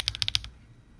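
A brief burst of about six crisp, clacky keystrokes on a Nut65 mechanical keyboard with HMX Pinchy switches, built on a 1.6mm PCB with no foam, followed by quiet.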